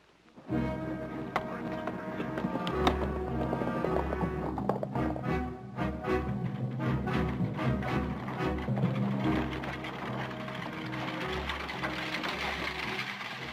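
Horse hooves clip-clopping in a western drama scene: a steady, moderately loud series of hoof strikes with rattling, under a continuous low rumble, without talk.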